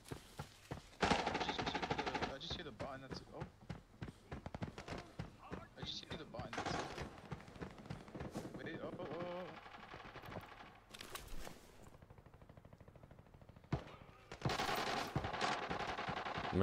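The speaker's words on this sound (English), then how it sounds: "I'm just gonna run towards those shots" Bursts of automatic gunfire from the video game Arena Breakout, rapid rattling volleys at varying distances that come and go across the stretch, with players talking between and over the shots.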